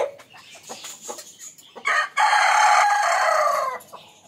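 Chickens cluck in short bursts nearby before a rooster lets out one loud, sustained crow that dominates the second half.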